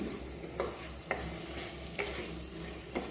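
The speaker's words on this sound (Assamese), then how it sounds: "মছলাখিনিৰ লগত এইখিনি এতিয়া ভালদৰে মিক্স কৰি দিম।" Potatoes and tomato tossed with spices in a frying pan for an Assamese mustard fish curry, a steady sizzle broken by several sharp scraping stirs at fairly even intervals, close and unvoiced.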